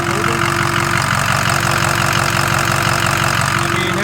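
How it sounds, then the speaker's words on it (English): A 2007 Ford F350 Lariat 4x4 engine, suspected of a bad turbo, running steadily up close with a loud continuous drone and a fast rhythmic knocking or ticking throughout. "this is my 2007 F350 Lariat 4x4. Does anyone know what is that sound that's making the motor?"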